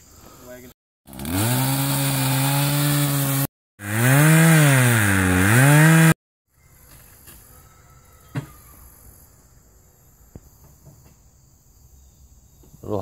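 A chainsaw cutting through wood roars loud and close in two long bursts, its pitch dipping and rising as the blade bites, then cuts off, leaving quiet outdoor background with faint insects and a few small knocks.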